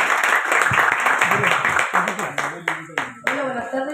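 Family and guests applaud an artist at the opening of her art exhibition, with a dense burst of clapping that thins out as a voice begins speaking over the last scattered claps.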